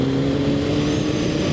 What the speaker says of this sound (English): what the exhaust sounds like with this new wireless mic